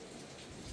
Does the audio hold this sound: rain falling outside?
yes